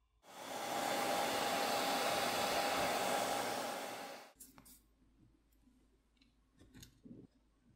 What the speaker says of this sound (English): heat needs to be applied to the back plate using either a hairdryer or a heat gun